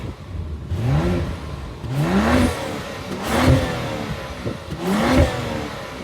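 BMW X5 xDrive40i M Sport exhaust revving in four separate blips, each a rising engine note that falls back to idle, heard fairly close with no talking.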